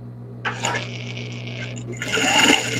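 A sewing machine stitches felt for a 24 cm toy rabbit, a close mechanical whir that starts in short bursts, then runs faster and louder with a rattling edge, over a low steady hum.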